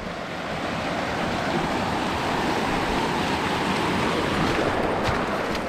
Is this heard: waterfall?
yes